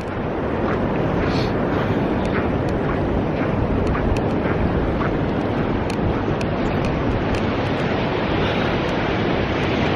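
Sea waves washing onto a beach beside a former shrimp pond on an overcast, cool day, a continuous loud roar of surf mixed with steady wind buffeting the microphone, with no talking.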